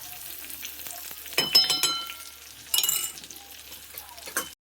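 Spices sizzle in hot oil as vegetables are tempered for a papad curry, with two sharp bursts of crackling and clinks of a spoon against the pan.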